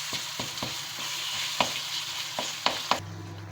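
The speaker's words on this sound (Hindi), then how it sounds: "अब इसको अच्छी तरह से मैश करते हुए भून लें" Mashed eggplant for baingan bharta sizzles in a pan with a steady frying hiss. A spatula scraping and stirring it makes several sharp, close knocks at irregular intervals.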